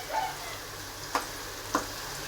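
A pan fries ingredients for a chicken curry, producing a soft, steady sizzle with a couple of brief clicks from stirring.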